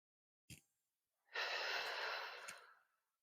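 A short sharp inhale, then a long steady exhale that fades away, close and quiet, during a gentle neck and shoulder stretching exercise for pain after laparoscopic surgery.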